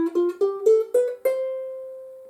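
Ukulele picking a rising major scale, six plucked notes in steady succession, with the last note left ringing and slowly decaying, no voices.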